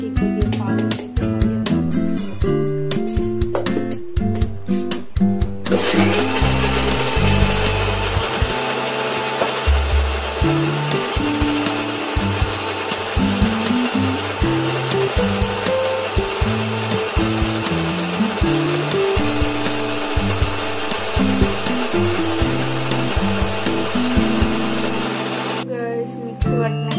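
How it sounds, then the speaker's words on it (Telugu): A mixer grinder blends homemade birthday cake batter with a loud, steady whirring drone lasting about twenty seconds, while background music plays throughout. "మిక్సీ పట్టినట్లయితే మొత్తం మనకి ఇలా వచ్చేసింది"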